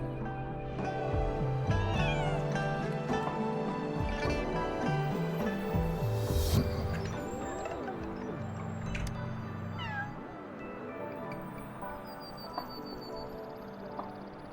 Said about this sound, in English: Just experiencing cats in game.